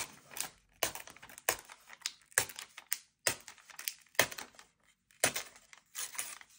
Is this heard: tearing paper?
yes